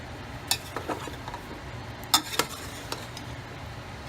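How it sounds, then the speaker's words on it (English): Potatoes stirred into bacon in a pot for clam chowder: scattered scrapes and clinks of a utensil against the pot over a soft, steady sizzle, a few sharper knocks standing out, no voices. "add the potatoes and stir them up once again"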